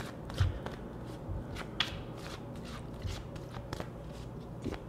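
Large tarot cards are handled and shuffled close by, with a run of soft papery flicks and riffles over a low background hum, no talk.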